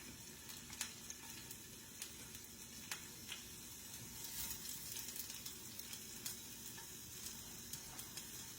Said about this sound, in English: toss in my peppers and my onions and let them start sauteing up